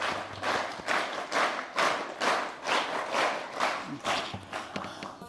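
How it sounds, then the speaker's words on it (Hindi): An audience at a school event in Narag, Sirmaur, applauds the children with a rhythmic, pulsing group clap of about two beats per second, fairly faint and fairly even, with no talking over it. "जोरदार तालियां"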